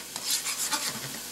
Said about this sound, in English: I've put a tablespoon of butter into the pan, and this is a large fry pan.